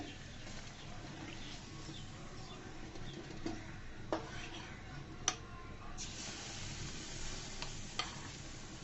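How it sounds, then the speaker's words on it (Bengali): Semolina mini cakes made with yeast fry in a pan with a steady, soft sizzle. Occasional sharp clinks of a spoon against the pan break through, and the sound is close-up and continuous. "আমি সুন্দর করে ভেজে নিচ্ছি ইস্ট দিয়ে"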